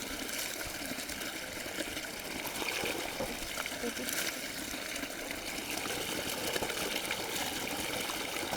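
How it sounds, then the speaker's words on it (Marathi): Water gushes steadily from a pipe on a farm where coriander is grown, a constant broadband rush that stays fairly loud and even throughout with no breaks. "तर आता सध्या तर हे पाणी चालू केलं आहे तिकडे"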